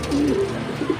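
A racing pigeon coos nearby in a soft, low, throaty call, repeated briefly.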